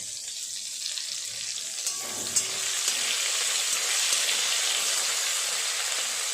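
Soybean chunks frying in oil in a pan, a steady, loud hissing sizzle that swells slightly partway through, with a faint clink of stirring, close and without talk.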